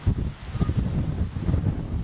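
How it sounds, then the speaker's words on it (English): Breezy wind buffets the microphone outdoors while metal detecting, a loud continuous low rumble with gusting swells throughout, no talk. "Oh, getting a bit breezy."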